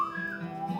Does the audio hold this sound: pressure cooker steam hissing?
no